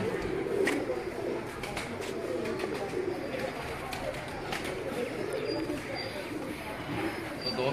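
Pigeons cooing at a pigeon loft in Rawalpindi, soft repeated coos mixed with other bird calls and people talking nearby.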